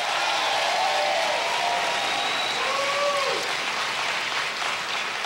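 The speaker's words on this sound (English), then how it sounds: "so give her a big round of applause" A large crowd at a community college appearance by President Obama in Cleveland, Ohio claps in sustained, even applause that fills the hall, with a few faint whoops rising above it.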